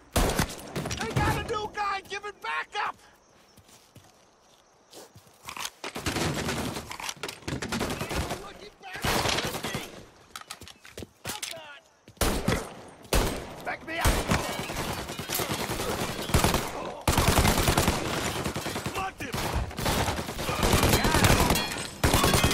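A new gun in Mafia Definitive Edition fires in loud, rapid bursts, with volleys repeating across the stretch around a quiet gap, and a voice speaks briefly.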